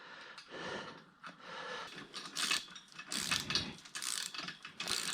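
A hand ratchet snugging bolts on fabricated shock mounts during a car camber repair, a rapid clicking pawl heard in several close, loud bursts of varying length with brief pauses between strokes.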